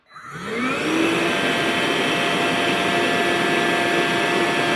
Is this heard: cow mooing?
no